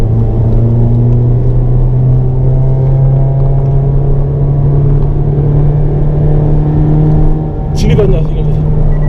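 A car engine drones loudly and steadily with a strong low hum, accelerating on a race track during a circuit track day, with a brief dip and rough burst near the end.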